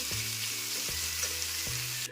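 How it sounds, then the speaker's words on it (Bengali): Steady, crackling sizzle of onions frying golden in a hot pan, continuous throughout, with a few soft low thumps underneath. "পেঁয়াজটা আমার গোল্ডেন ভাবে ভাজা ভাজা হয়ে গেছে"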